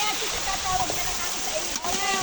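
Steady rush of water pouring from a faucet at a riverside picnic spot, a continuous close hiss that runs throughout with only a brief dip.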